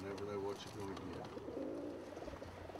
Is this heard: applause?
no